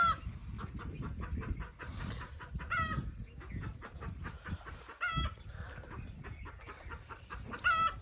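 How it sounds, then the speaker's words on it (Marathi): Farmyard hens cluck repeatedly at a moderate distance, short bursts scattered across the stretch with brief louder calls, over a low rustling background. "काही कोंबड्या वरटते टोक टोक टोक टोक करते"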